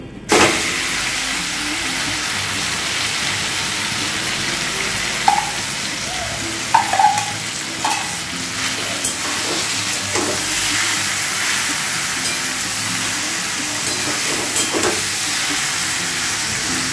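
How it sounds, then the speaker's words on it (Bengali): Jujube fruit fries in oil with fried chillies, a steady, close hiss broken by occasional pops and light clinks of a utensil throughout. "একটু ভেজে নিচ্ছি।"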